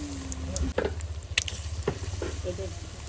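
Vegetable fritters (chop) sizzle steadily in hot frying oil, close and continuous, with scattered clinks and scrapes of a stirring utensil.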